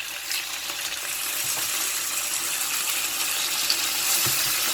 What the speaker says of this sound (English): Pop it in the frying pan.